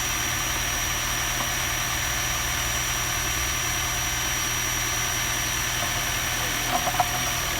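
A 2017 Honda Accord hybrid idles with a steady, continuous engine drone and faint vibration, joined near the end by a couple of brief clicks or knocks.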